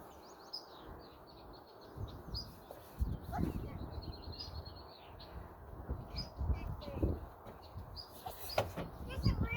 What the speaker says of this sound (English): There's a bird over there.